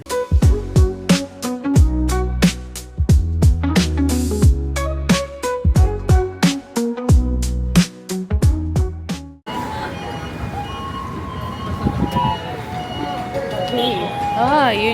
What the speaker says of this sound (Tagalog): Ang ingay nung garbage truck nila